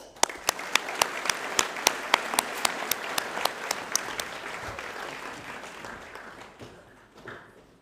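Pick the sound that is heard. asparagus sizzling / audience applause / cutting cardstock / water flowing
audience applause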